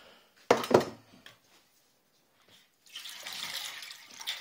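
Water runs steadily into a metal saucepan for a second or so, after a few clattering knocks of kitchenware and a quiet pause, while making quince jelly.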